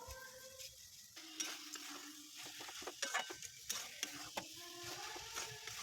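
Spiced minced meat with turmeric, Kashmiri chili and cumin powders is stirred in a pan, giving soft intermittent scrapes and clicks of the utensil over a quiet, faint sizzle.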